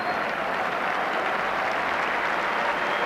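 A stadium crowd applauds steadily at a Rangers v St Mirren football match as the injured Dale Gordon is carried from the field, with dense, even clapping that is fairly loud and sustained throughout.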